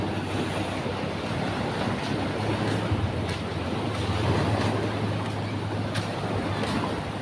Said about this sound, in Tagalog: Lakas ang agos sa palabas sa dagat.